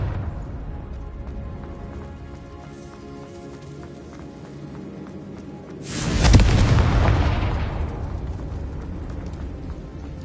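A deep, loud blast from the Confringo fire spell in the Hogwarts Legacy game bursts out suddenly after a low rumbling ambience, then trails off in a long booming decay.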